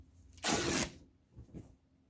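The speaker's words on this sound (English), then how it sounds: "I like the sound of the fabric tearing" Fabric torn by hand while making a junk journal, one loud, rough rip lasting about half a second, followed by two short, fainter tugs, close and otherwise quiet.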